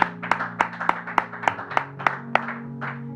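A church congregation claps in a steady rhythm, about three sharp claps per second, over sustained organ-like musical tones, close and fairly loud.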